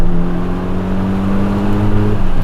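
Mitsubishi Lancer Evolution V accelerating hard at speed, a loud steady engine drone with layered harmonics holding for the whole stretch, close and continuous, with no voices.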